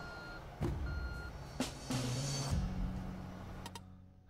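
A construction truck backing up in the video game Construction Simulator 2, its reversing alarm chirping steadily over a low engine rumble, with clicks and knocks as it moves.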